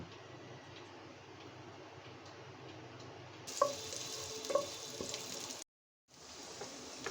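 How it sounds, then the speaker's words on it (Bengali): Garlic and onion sizzling in hot oil for a lentil dal tempering, a faint steady frying hiss with light ticks, growing brighter and louder partway through before a brief cut to silence. "এখন বাগার দিব"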